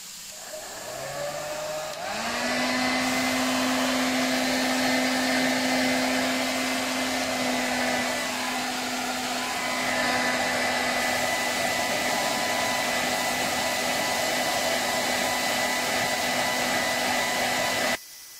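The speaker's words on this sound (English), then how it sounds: "Got a hairdryer here ready to go" A hair dryer, used to clear moisture from a car headlight, switches on and blows with a steady, loud whirring hum, holding a constant pitch throughout before cutting off at the end.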